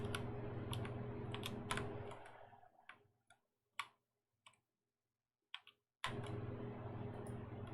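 Sharp mouse clicks while building in the space game StarMade, scattered single ticks over a steady background hum that drops out for a few seconds, then returns.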